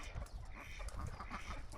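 Ducks at a backyard pond quack faintly and intermittently in the distance, soft nasal calls over a low, rumbling outdoor background.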